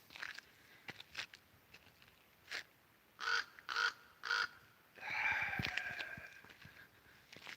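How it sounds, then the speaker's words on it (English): Crows cawing on a mountainside near Yosemite, a few separate harsh caws early on, then three loud rhythmic caws followed by a longer drawn-out call, fairly close against quiet outdoor background. "The hills are alive with the sound of crows weaseling donuts."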